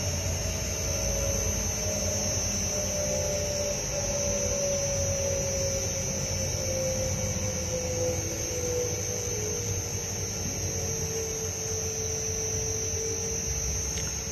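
A 100L explosion-proof sigma mixer with copper blades runs steadily for resin and fiber, giving a constant mechanical hum and whine with a high electrical tone, alone and unbroken throughout.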